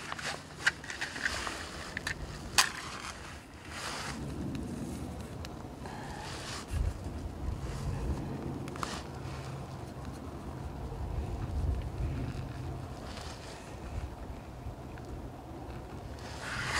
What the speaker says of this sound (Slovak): Je minus jedna, trošku pofukuje vietor.